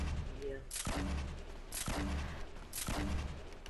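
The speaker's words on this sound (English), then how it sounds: "Should I fire grenade launchers?" Grenade launcher fire in a video game: three heavy, booming bursts at roughly one-second intervals, each a broad crack followed by a low rumble, fairly loud against a steady background with faint talk.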